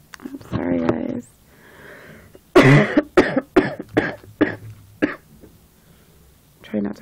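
A string of harsh, rapid coughs in a fit, close and loud, with a throaty breath and sniff before and a short silence after.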